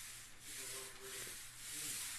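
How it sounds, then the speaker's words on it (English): Sanding rasps across an epoxy-coated concrete floor being lightly sanded before a polyaspartic top coat, giving a continuous close hiss with gentle swells in its strokes. "So we lightly sand it to get those bumps out and the debris out of it before we do the top coat."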